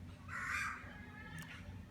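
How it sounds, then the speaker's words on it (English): Outdoor birdsong in a natural setting: a bright, crow-like call rises near the start, then a brief second call follows, faint against a quiet background. "the birds chirping."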